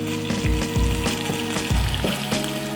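Steak and radishes sizzle loudly in a hot pan, a dense close crackling hiss broken by repeated low thumps and scrapes as the food is stirred and moved.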